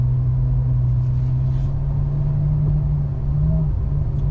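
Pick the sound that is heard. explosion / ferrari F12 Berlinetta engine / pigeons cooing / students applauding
ferrari F12 Berlinetta engine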